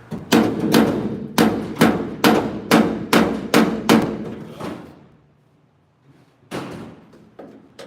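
Metal clangs as a part is struck repeatedly with a hammer, about a dozen loud, close blows in a fairly even rhythm, then a pause and two more hits.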